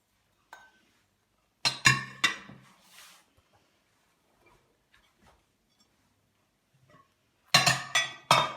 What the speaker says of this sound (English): Now, just to put everything into the slow cooker.